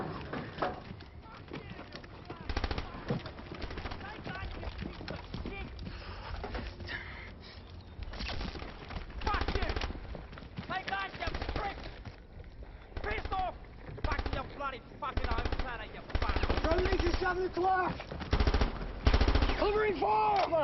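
Rapid machine gun fire in a sci-fi alien action film scene, with sustained bursts and scattered shots mixed with shouting voices and battle noise throughout.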